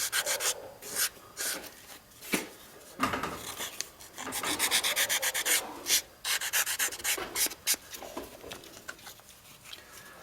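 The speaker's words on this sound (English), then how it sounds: "Now I'm just going to sand the edge right there to get a nice round edge to it." Edge of a white cowhide leather pouch being sanded round, a series of close, uneven rubbing strokes with short pauses between them and no talk.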